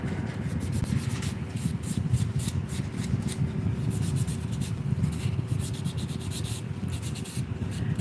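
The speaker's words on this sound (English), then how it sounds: "they said to buff out your nails a little bit so that the gel can adhere a little bit better" Fingernails are buffed with a nail buffer before gel polish, making a continuous close scratchy rubbing with quick back-and-forth strokes throughout, no talking.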